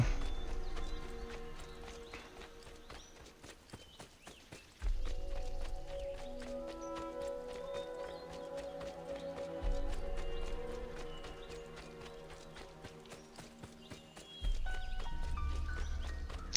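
Horse hooves clip-clopping in the Assassin's Creed II video game, a steady walking rhythm of close taps over game music that swells in repeating phrases.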